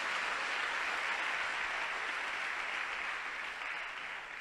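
Congregation at a Telugu Christian church service breaks into steady, dense clapping that holds evenly and then eases slightly toward the end.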